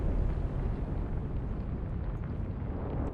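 In the naval video game Atlantic Fleet, a torpedo strikes a tanker at sea, producing a deep, continuous muffled rumble of explosion and churning water with no distinct onset, steady and fairly loud throughout.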